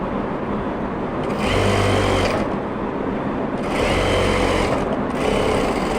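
A sewing machine stitches a trouser seam along the hip curve in two loud, steady bursts of rapid whirring, each lasting about a second, with a brief pause between them.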